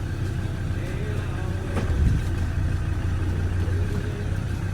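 A car reversing while towing a boat trailer, its engine a low steady rumble close by with a faint thump near the middle, no talk.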